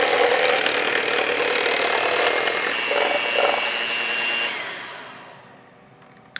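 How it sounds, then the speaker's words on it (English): Electric hand mixer whirring on low through key lime pie filling, a steady close buzzing drone that fades and winds down toward the end before a small click. "You're gonna wanna mix this on low until it looks like an uncooked custard"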